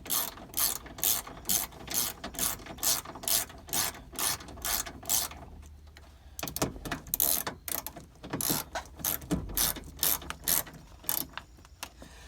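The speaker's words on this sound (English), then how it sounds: "Now just kind of tighten it down easily." A hand ratchet clicks in quick repeated bursts tightening 10mm bolts on a Ford window regulator, close and crisp, with a short pause midway before the clicking resumes.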